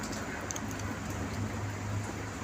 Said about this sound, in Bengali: আমাদের এখানে বৃষ্টি হচ্ছে এখন।